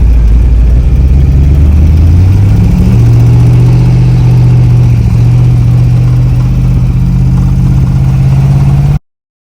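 A no-prep drag racing car's engine runs loud and close with a rough, pulsing idle, then revs up to a higher steady drone before cutting off abruptly near the end.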